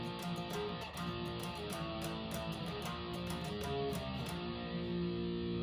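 An overdriven electric guitar plays a sliding melodic line from a metal remix of a song, continuous and dense with sustained distorted notes and no talking.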